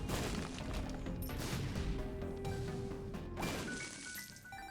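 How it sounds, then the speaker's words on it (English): Repeated explosions from The Binding of Isaac video game, loud crashing booms and clinking game effects layered densely throughout, with a fresh burst near the end. "the great thing about having infinite explosions is just being able to get rid of these, right?"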